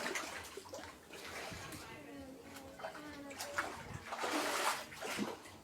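Flood water splashes and sloshes inside a shop during flooding at Black Bush Polder, Guyana, with irregular nearby splashes and a voice talking over them.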